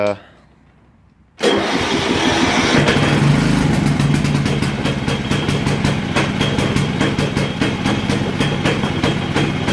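A 1992 Craftsman 36-inch lawn tractor engine cranks and catches after a cold start, then settles into a loud, steady, slightly uneven close-up running chug. Light talk is also present.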